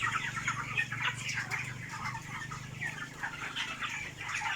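A flock of 24-day-old broiler chickens on a farm keeps up continuous overlapping clucks and chirps, moderately close, with no voices.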